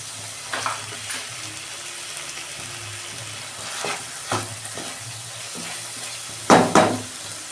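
Spices for a chicken tikka curry fry in oil while a spoon stirs and scrapes the pan, a soft steady sizzle broken by several sharper clanks and scrapes.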